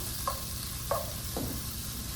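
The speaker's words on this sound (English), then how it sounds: "I'm gonna go ahead and put the shrimp in." Shrimp hit a hot frying pan and sizzle, with a few short scraping stir strokes over a soft continuous frying hiss, close and fairly quiet.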